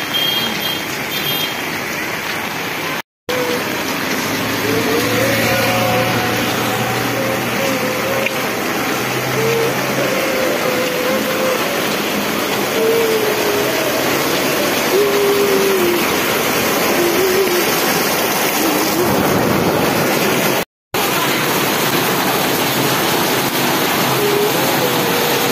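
Heavy rain drums steadily on an umbrella with water dripping through it, a dense continuous wash of noise at a crowded dairy, with a faint low drone and brief whistle-like tones passing under the downpour.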